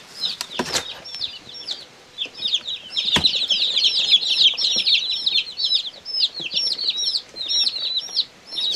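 Baby chicks of the Cochin, Cream Legbar and dark Brahma breeds cheep continuously, many high peeps overlapping close by, with a few soft thumps and rustles among them.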